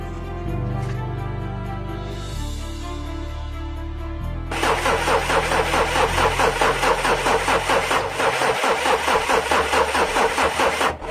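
A car engine cranking repeatedly without catching, a stuttering whir that pauses, then a louder rapid rhythmic churning of the starter that keeps grinding on without the engine firing.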